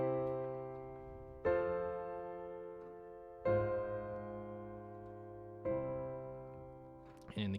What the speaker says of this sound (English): Now this sounds a lot like the minor plagal cadence.